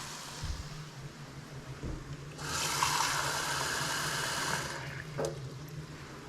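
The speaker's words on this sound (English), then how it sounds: "we're going to fill up a glass of water. Tap is fine" Tap water running into a glass in a home kitchen while a chicken stew is cooked, a steady hissing stream lasting about two seconds over a low background hum, then stopping.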